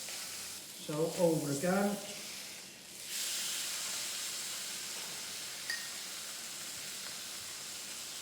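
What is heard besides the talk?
Welsh Wagyu beef sizzling in a pan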